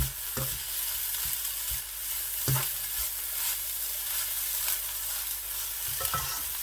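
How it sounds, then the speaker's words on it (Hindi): Vermicelli roasting in desi ghee, a steady dry sizzle with occasional soft scrapes and stirs of a spoon in the pan, close and continuous without speech. "यही कह लें कि भून के आपने सवैयाँ जो है ना वो तैयार करनी है"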